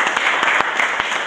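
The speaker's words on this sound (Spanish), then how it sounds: "Un aplauso para todos." An audience at a university event claps in sustained applause, dense and even, with a few sharper claps standing out near the listener.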